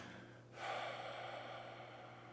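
After a brief quiet moment, a single long, steady breath out comes close to the microphone during a posture breathing exercise and carries on over a low room hum.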